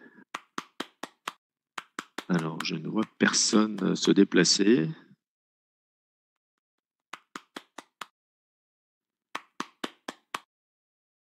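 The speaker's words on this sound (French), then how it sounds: "On vous applaudit" Sparse applause at a French science innovation awards ceremony, a few people clapping in short irregular bursts at close range, separated by silence and someone speaking.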